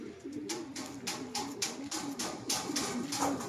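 A pigeon coos repeatedly in a low, rolling rhythm, close by, with soft rustling and clicks around it and no speech.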